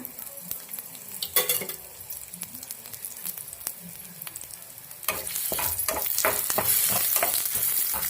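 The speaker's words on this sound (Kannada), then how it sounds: "ಸ್ವಲ್ಪ ಫ್ರೈ ಮಾಡೋಣ ಇದನ್ನು" Ginger sizzles in hot oil in a pan for chicken curry, a steady crackling fry with scraping stirs and utensil clinks, growing louder and denser in the second half.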